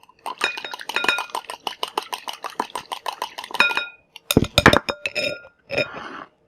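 A whisk clinks rapidly against a bowl while ingredients are mixed for canna butter chicken fingers, giving a steady run of close metallic taps, followed by a few louder clanks and knocks.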